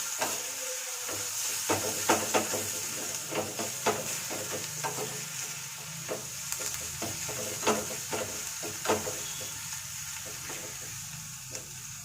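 Garlic frying in a pan over a low gas flame, a steady close sizzle and hiss with repeated scraping stir strokes throughout, no talking.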